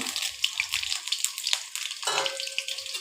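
Garlic and chili fry in mustard oil, a short, dense crackling hiss close by that shifts slightly as it settles.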